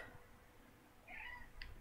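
A cat meows twice near the end, a clear call followed by a brief higher cry over a quiet indoor room hum.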